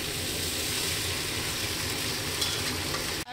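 Fried vegetables, mixed with spices for Bengali sukto, sizzle in a pan and are stirred. The sound is a steady, close frying hiss with soft scraping and a brief knock at the end.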